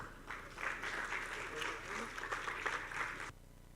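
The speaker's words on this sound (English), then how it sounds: "A round of applause again, please." Audience applause at a WordPress conference session fills the main venue, a steady patter of clapping under light talk before stopping abruptly.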